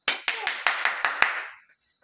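Seven sharp hand claps in a quick, even rhythm, close and loud, trailing off with a short ringing tail.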